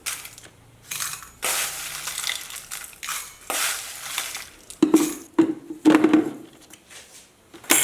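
Roasted spices and turmeric for a meat curry powder are pounded in an uneven rhythm of heavy crushing thuds, several strikes adding a metallic clink.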